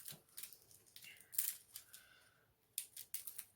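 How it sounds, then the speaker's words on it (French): Scissors snip open a small plastic bag of diamond-painting beads, a few sharp, close cuts and crinkles spread across a quiet few seconds. "820, hop, paire de ciseaux"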